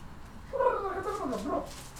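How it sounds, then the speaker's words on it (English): Domestic cat makes a short, throaty sound lasting about a second, close and fairly quiet against low background noise. "That's the cat."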